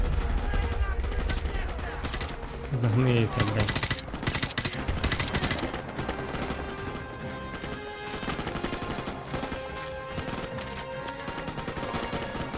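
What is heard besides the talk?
gunfire in video game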